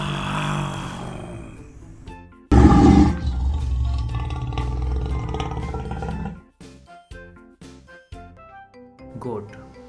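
A lion lets out a sudden loud roar that rumbles on for several seconds after a brief voice, then fades into light music.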